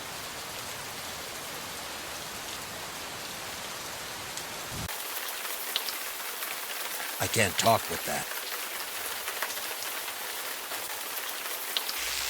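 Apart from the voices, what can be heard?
rain in the video game Gemini Rue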